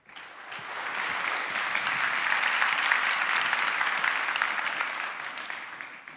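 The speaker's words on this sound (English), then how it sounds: "Would you please put your hands together and welcome to the stage from Edinburgh, Marcos." A conference audience claps steadily for about six seconds to welcome a speaker to the stage, a dense, even applause with no voices over it.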